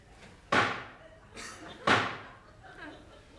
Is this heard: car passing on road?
no